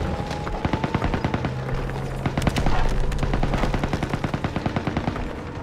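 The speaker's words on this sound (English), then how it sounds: "Small arms fire" Small arms gunfire from the World War II shooter game Call of Duty WW2 rattles out in loud, rapid automatic bursts and single cracks, layered over a low rumble and background game ambience.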